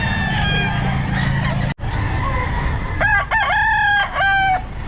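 Gamecocks crow loudly and close by at a pet market, with several drawn-out cock-a-doodle-doo calls, some overlapping, over constant crowd noise.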